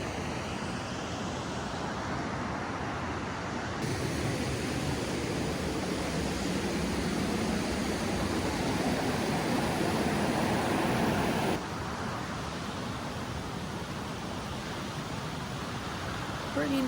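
Creek water flowing steadily along a hiking trail upstream of a waterfall, a continuous broadband rush that stays loud and even throughout with no voices.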